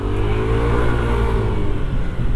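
Yamaha Aerox Turbo scooter engine revving hard with the Y-shift engaged, a loud, steady, close-up drone that holds high through the whole stretch.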